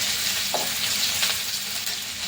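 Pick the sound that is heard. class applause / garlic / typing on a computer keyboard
garlic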